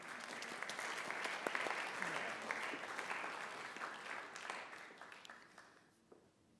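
A church congregation applauds in a sanctuary during a service, a sustained patter of many hands clapping that builds and then tapers off toward the end, moderately distant with no clear speech.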